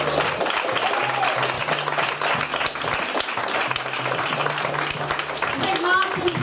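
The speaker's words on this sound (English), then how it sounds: "A big round of applause for them," An audience applauds the writers at a live comedy or storytelling show, a full round of continuous clapping throughout with a low hum underneath and a brief cheer near the end.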